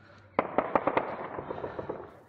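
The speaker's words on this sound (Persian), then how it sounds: "شلیک هوایی در شهر شورو در محمدآباد." Aerial gunfire in a city street in Mohammadabad, several sharp cracking shots in a quick irregular burst, then smaller fainter pops trailing off amid a noisy outdoor background.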